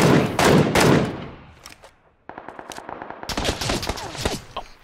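Bursts of gunfire in the battle-royale video game PUBG crackle loudly in a rapid fusillade, then after a brief lull resume as repeated sharp shots, with no voices over them.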